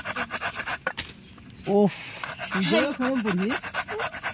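Green chillies rubbed by hand into raw green mango for a village-style mango mash, giving a steady rhythmic scraping close by, with a brief exclamation and some voiced chatter partway through.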